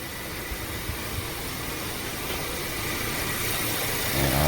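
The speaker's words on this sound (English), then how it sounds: "we're gonna start up the car, let it run for like a few minutes" A 2019 Honda Accord with a 1.5 liter engine idles steadily after start-up, a low, even engine hum with a slight rise in level toward the end and no voices.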